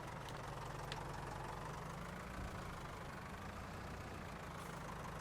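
A small tractor engine in the Farming Simulator 22 game hums at a steady low idle-like drone, constant and fairly quiet throughout.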